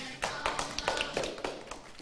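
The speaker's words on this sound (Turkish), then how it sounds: "Ayşe'yi bir de alkışlayalım." An audience claps for Ayşe at a children's quiz-style event, a quick run of sharp, fairly faint hand claps and taps that rise and fade in uneven bursts, with no talk over them.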